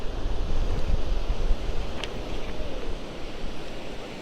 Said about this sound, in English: It's going to be a little windy, so you'll have to bear with me.